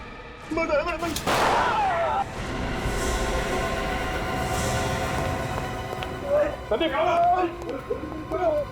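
A single sharp gunshot cracks out early in a Hindi CID TV episode, surrounded by tense talking voices and a sustained musical score.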